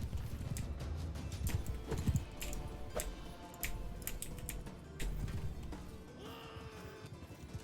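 A horse gallops through a medieval battle in a video game, giving a rapid clip-clop of hooves amid a dense din of battle noise and scattered clicks, fairly loud and steady throughout.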